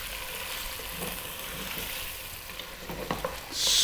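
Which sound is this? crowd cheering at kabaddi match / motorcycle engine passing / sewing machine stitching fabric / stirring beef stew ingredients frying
stirring beef stew ingredients frying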